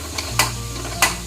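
Washed sesame seeds dry-roasting in a pan for unniyappam, with a low steady hiss under three quick scraping stirs spaced across the moment.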